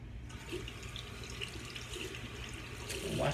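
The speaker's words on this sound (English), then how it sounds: "Wash the substance off my hands." Tap water running steadily over hands as sticky homemade sugar wax is washed off at a sink, a continuous close splashing rush with no talk.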